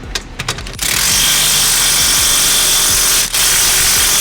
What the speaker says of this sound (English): Put the 17 nut on the other side. And go ahead and hit it with your gun.